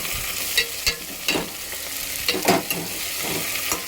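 Okra being stir-fried into a curry in a home kitchen, with a steady sizzle and repeated scraping stirs of a spoon against the pan, close and loud, with no talking.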